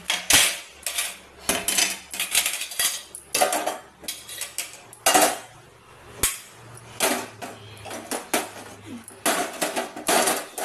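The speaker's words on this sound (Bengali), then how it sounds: "আর বাসন দেখো কতটি জমেছে এগুলো সব ঝুড়িতে সেট করব" Steel and ceramic dishes with cutlery clatter and clink repeatedly as they are stacked into a basket in a home kitchen, in irregular bursts of sharp knocks, close and fairly loud.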